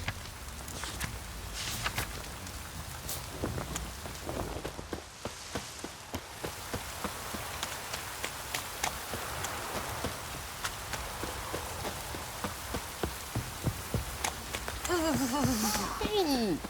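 Steady rain falling in The Witcher 3 game world, a constant hiss of drops with footsteps and occasional thuds, under a character's voice speaking.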